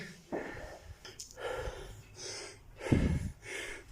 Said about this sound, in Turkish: Nefes nefese kaldık.